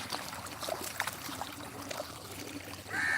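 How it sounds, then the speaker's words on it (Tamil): Irrigation water being let into a farm field, a faint continuous trickle and gurgle of flowing water, steady and close, with light background noise. "நான் தண்ணி விட்டுக்கிட்டுருக்கேன்"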